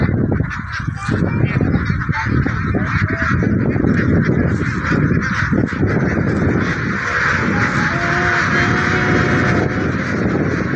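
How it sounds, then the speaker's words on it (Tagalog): A flock of ducks on a farm field keeps up loud, continuous honking quacks, many birds calling at once and overlapping close by, with no speech. "Andito tayo sa mga itik."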